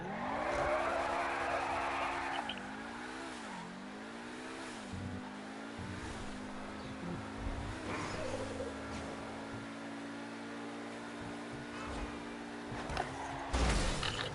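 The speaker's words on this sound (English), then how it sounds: "here is the souped up Lamborghini" A souped-up Lamborghini driven in GTA 5 Online gives a steady engine drone that dips and rises with gear shifts and speed changes, with tire noise and a brief louder burst near the end, and no talking.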